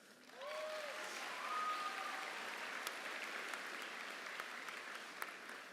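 Graduating high school students applaud steadily, a continuous broad wash of clapping heard fairly faint and from a distance, with a brief voice at the start before the hands take over.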